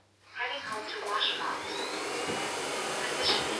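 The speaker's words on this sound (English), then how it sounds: "Like any vacuum, it's loud, especially on deep suction" A Eufy X10 Pro Omni robot vacuum starts up and runs loud on suction, a steady whirring roar with a high motor whine after a brief quiet start.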